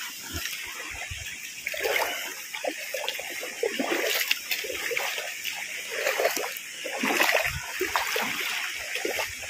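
River water sloshes and splashes in irregular bursts as people bathe, close by, with scattered splatters and no voices.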